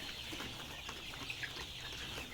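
Layer pullets about 60 to 65 days old, held at a poultry farm for sale, cluck softly in a low, continuous chatter with a few brief higher calls over faint background noise.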